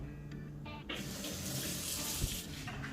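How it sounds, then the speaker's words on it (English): Tap water runs steadily into a kitchen sink while cucumbers are washed under it, a close, continuous splashing rush with brief shifts as the stream hits the produce, no voices. "gotta wash these cucumbers, right?"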